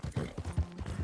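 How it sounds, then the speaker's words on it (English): Horse galloping in Red Dead Redemption 2, a steady rapid clip-clop of hooves repeating about five times in one second, close and fairly loud with no talking. "I'm just gonna push my horse to the limit now"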